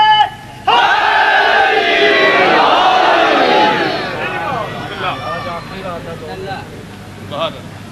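At a Shia majlis religious gathering, a large crowd shouts a slogan in unison, loud and close, a massed chant of voices that rises and then fades into scattered shouts.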